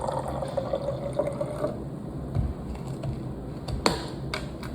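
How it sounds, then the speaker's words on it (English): Juice pours and splashes into a cup with a low continuous gurgle, plus a few small clinks near the end. "I'm just going to quickly pour it in here and then dilute it with water"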